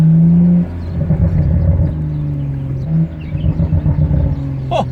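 A car engine in sport mode revs loudly and close, with a steady rumbling drone and a harsh, rapid staccato edge like machine-gun fire. It swells and falls with no talk over it.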